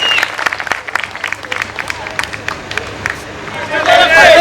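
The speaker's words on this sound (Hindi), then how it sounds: "जोरदार ताली होनी चाहिए दादा दादी के लिए प्लीज प्लीज प्लीज प्लीज" Enthusiastic applause and crowd cheering for an elderly couple at a family sangeet celebration, with dense sustained clapping and lively chatter throughout that swells louder toward the end.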